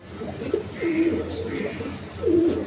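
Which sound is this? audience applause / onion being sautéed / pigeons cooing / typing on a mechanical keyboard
pigeons cooing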